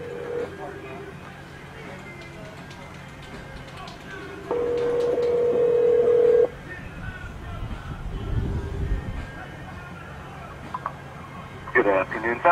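Electronic phone tones sound over a quiet background: short beeps, then a longer steady tone, followed by more brief dialing tones.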